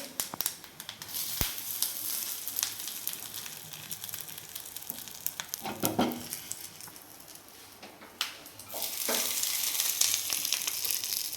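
Dosa batter cooking on a hot pan, a steady soft sizzle with scattered crackles and a few louder scraping or stirring bursts, close and alone without talk.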